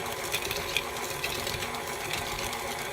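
An electric mixer runs steadily, beating butter and sugar together until creamy for a pound cake, with a continuous whirring drone and faint rhythmic ticks throughout, close by and without talk.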